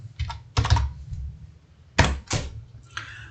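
Computer keyboard keys tapped while writing code in Visualg, a few short clusters of quick clicks separated by pauses, close and distinct with no talking.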